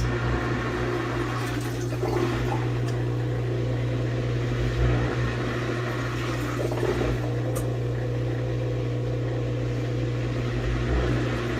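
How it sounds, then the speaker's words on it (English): The drain pump motor of a KUPPET twin tub portable mini washing machine hums steadily and continuously, with a rushing, gurgling wash of draining water layered over the constant motor drone. "Sounds like a decent motor for the draining."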